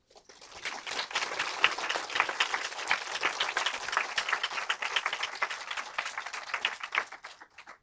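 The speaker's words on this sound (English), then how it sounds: "So let's give her another round of applause." An audience applauds at the BAAFN 9th Essay Contest award ceremony: dense, sustained clapping that swells quickly and carries steadily for several seconds before thinning out near the end, with no talk over it.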